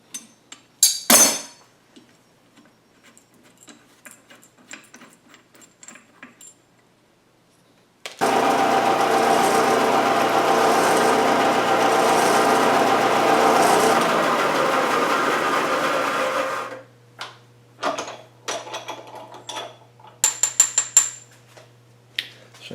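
A power drill bores a hole through a steel lock pin for a two-speed winch modification. A steady, loud grinding whir runs for about eight seconds, with scattered clinks and handling knocks of metal parts before and after.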